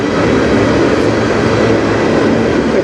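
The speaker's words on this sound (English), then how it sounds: "This is the potash train" A CN potash freight train rolls past on the Strathroy Subdivision with a steady, loud, broadband rumble and clatter of rail cars, continuous throughout with no talking.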